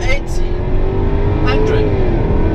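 Jaguar F-Type Coupe AWD R engine pulling hard from a standstill toward 100 km/h, a steady droning note rising slowly in pitch, heard from inside the cabin with loud continuous road and engine noise.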